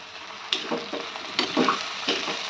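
Ginger garlic paste frying in a pan for biryani, a steady sizzle with occasional stirring scrapes, close and moderately loud, no talking.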